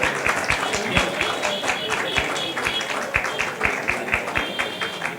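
An audience at a Lions Club eye-camp closing and honours ceremony in Bhopal gives rhythmic unison clapping, steady and evenly spaced beats over a bed of crowd applause throughout.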